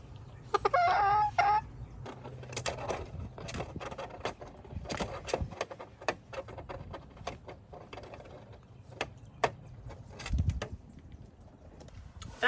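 Chickens cluck and squawk nearby on a garden patio, with a loud crow-like call at the start, followed by scattered clucks and rustling and tapping sounds.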